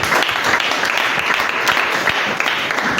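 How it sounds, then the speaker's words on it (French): A church congregation applauding, dense and loud clapping from many hands sustained evenly for the full few seconds. "J'aimerais qu'on acclame pour les Seigneurs."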